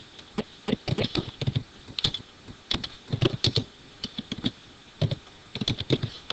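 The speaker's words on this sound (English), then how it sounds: "Now when I type," Quick bursts of close key clicks on a computer keyboard fall in short irregular runs with brief pauses between them, and nobody speaks.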